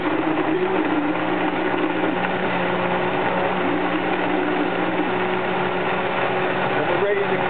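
A blender runs steadily, blending a green smoothie with a constant motor whine and churning that holds level throughout, with a small shift near the end.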